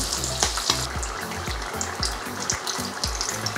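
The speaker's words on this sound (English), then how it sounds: "we're going to fry until they're nice and golden brown" Spring rolls deep frying in hot oil, a busy continuous sizzle and bubbling crackle heard up close and alone, with faint rhythmic clinks running through it.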